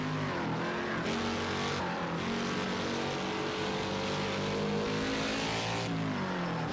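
NASCAR stock car racing at Watkins Glen in Project Cars 2: a loud, close V8 engine roars continuously, its pitch climbing through the gears and dipping at the shifts, with no talking.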